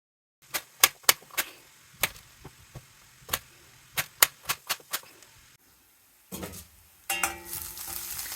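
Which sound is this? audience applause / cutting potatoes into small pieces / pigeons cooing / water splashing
cutting potatoes into small pieces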